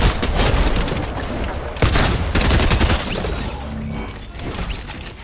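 Gunfire and explosive impacts from Fortnite gameplay form a loud, dense barrage that runs continuously, with sharper bursts and crashes standing out near the middle.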